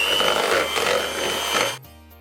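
An electric mixer beats an ice cream mixture in a bowl, a steady dense whirring buzz that runs loud and close before cutting off abruptly, leaving a quiet hum.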